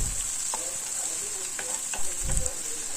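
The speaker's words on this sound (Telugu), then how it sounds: "ఒక 5-6 పచ్చిమిర్చిని కూడా వేసి ఈ ఉల్లిపాయలు ఎర్రగా వేగేంత వరకు వేయించుకోవాలి." Onions and five or six green chillies fry in oil in a pan for a fish curry, giving a steady close sizzle with a few soft stirring scrapes throughout and no talking.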